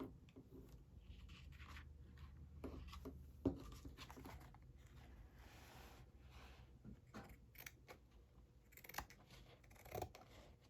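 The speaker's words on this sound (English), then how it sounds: "These aren't the best scissors in the world, but maybe if I just start right here." Dull household scissors snipping through a paper file folder for a shabby chic journal cover, giving scattered short crisp cuts and rustles at close range, fairly quiet and with no talking.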